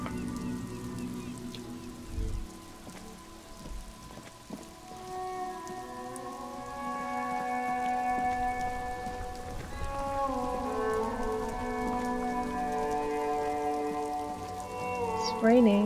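Steady rain falls in the video game Disco Elysium, a continuous patter on wet surfaces under layered, sustained music notes that swell toward the end, with faint talk in places.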